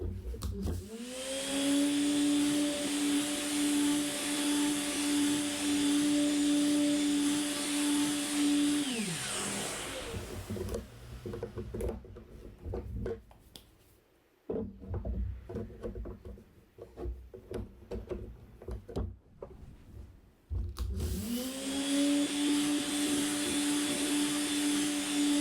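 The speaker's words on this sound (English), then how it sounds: "now the next step is to sand this all the way up to 240 grit" A powered sander whines steadily against a wooden knife block for about nine seconds, then winds down, followed by rubbing and handling noises and a restart near the end; no speech.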